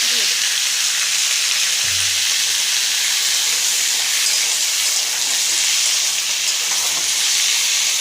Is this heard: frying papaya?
yes